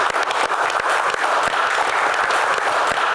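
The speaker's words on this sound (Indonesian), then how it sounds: "tepuk tangan" A crowd clapping steadily, dense and energetic, with a few sharper individual claps standing out throughout.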